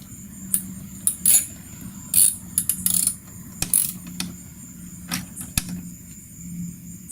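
An Awe S-Flo intake gets tightened on a 2019 Mini Countryman S ALL4, heard as close, sharp ratcheting clicks and short metallic bursts in uneven clusters over a low, steady background hum, with no talk.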